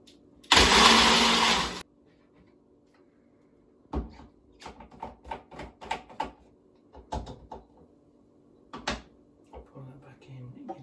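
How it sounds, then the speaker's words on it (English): A smoothie maker blender gives ice cubes one short, loud whiz of just over a second, followed by quieter clicks and knocks of the pot being handled. "Give that a little whiz just to break up the ice."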